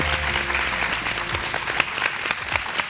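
A studio audience on a morning TV show applauds, a dense continuous clapping from many hands, close and loud for the whole stretch.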